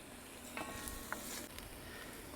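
Onions and garlic browning in a Dutch oven for white turkey chili, a quiet, even sizzle with a few soft stirring scrapes and clicks.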